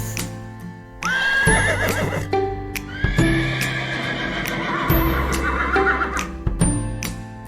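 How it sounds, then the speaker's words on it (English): Horse on a farm neighing loudly and repeatedly, shrill whinnies rising and falling close by, with a steady low hum underneath and occasional hoof clip-clops. "I'm a horse."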